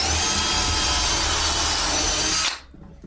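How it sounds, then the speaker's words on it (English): A power drill bores through a wooden stud in a loud, steady, close whine for about two and a half seconds, then stops abruptly, leaving a quiet room. "on this side I can drill through the stud"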